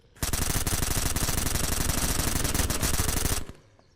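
A gun in the zombie shooter Surroundead fires a sustained rapid burst, loud and continuous for about three seconds before cutting off abruptly, with a brief fading tail.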